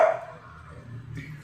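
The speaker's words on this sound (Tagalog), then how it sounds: "Ang dami-daming aso." One dog gives a short, loud bark at the start, then a fainter, muffled yip follows over low background rumble, outdoors among several dogs.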